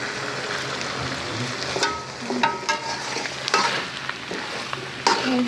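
Wild mushrooms fry almost dry in a pan as their liquid cooks off, making a moderate sizzle punctuated by several sharp clinks and scrapes of a spatula stirring.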